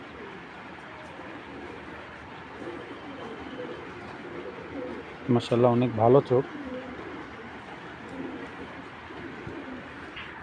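A soft hum of background noise runs throughout, broken midway by a brief burst of close, low, throaty cooing from an imported racing pigeon, with a voice speaking quietly.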